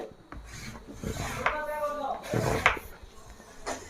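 Chalk or marker rubbing along fabric to draw a straight cutting line for a salwar, a few scraping strokes close up in a quiet room.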